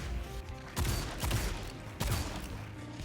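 Hand cannon shots in Destiny 2 fire in a few sharp, separated bursts against steady game background noise, fairly quiet and with no talk.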